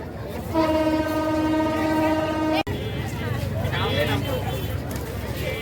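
A passenger express train's long, steady horn blares for about two seconds, followed by rumbling rail noise and indistinct voices at a busy, crowded station platform.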